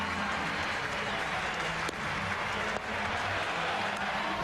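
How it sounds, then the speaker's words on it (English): Ballpark applause during a Dodgers at Giants baseball game as players and crowd clap for JT Snow, a steady, fairly distant wash of clapping and crowd noise with faint speech mixed in. "And we have Dodger players applauding JT Snow"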